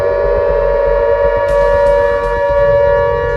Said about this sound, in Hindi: युद्ध का सायरन बज गया है।